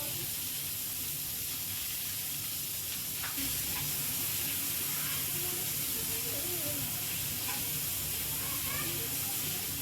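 Chopped onion fries in hot oil with mustard seeds, a steady close sizzle and hiss with faint stirring sounds throughout.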